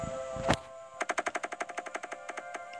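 Bombs going off in the video game Doofus Drop: one heavy thump, then a rapid burst of about twenty crisp electronic pops that slowly fade, loud and close with no talking.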